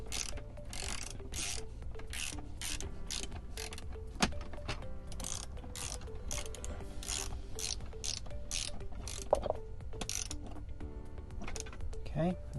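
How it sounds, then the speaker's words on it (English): A ratchet with a 10mm socket tightens a rotating screen mount in a Tesla Model 3 or Y, giving steady rapid clicking strokes close up, with a couple of sharper knocks. "we'll get that tightened up again using the 10mm socket"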